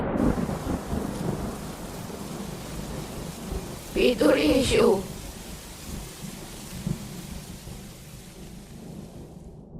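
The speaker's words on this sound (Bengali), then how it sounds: "কিন্তু মাঝপথে শুরু হলো তুমুল বৃষ্টি" Heavy rain pours steadily in a cartoon sound effect, with rumbling thunder at the start, and a short line of speech cuts in midway before the downpour fades out.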